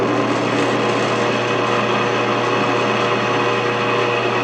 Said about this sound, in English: I'm going to kind of want to just wiggle that around until it drops into the punch mark without deflecting the drill anywhere.